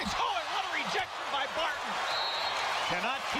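A basketball arena crowd at FedEx Forum in Memphis roars and cheers after a defensive block, a dense, sustained wash of noise with shouting voices and a play-by-play commentator talking over it.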